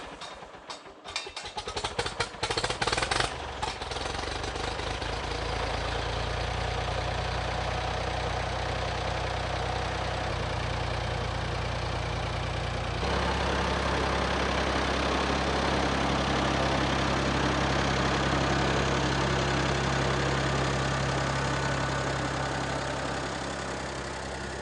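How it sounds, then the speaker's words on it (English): A tractor engine starting up and idling steadily, heard up close with a deep, constant low rumble and a slight shift in tone partway through, preparing to head out for sunflower planting. "So let's fire the tractor up,"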